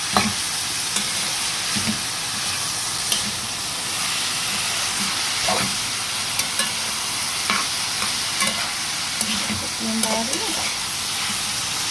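Wild greens cook in a pan over a raised flame, giving a steady close sizzle and hiss with occasional light stirring clicks throughout.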